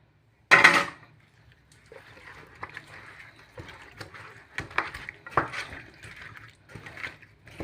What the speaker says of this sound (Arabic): وهبدأ اخلط ده كله مع البطاطس